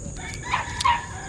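A rooster crows twice in quick succession, fairly close, over a steady outdoor background hum.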